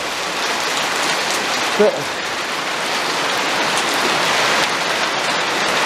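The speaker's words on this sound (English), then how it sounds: "That's quite heavy hail out there." A heavy hail shower pours down outside, heard as a loud, dense, continuous hiss of pelting ice on surfaces throughout, with one short spoken word partway through.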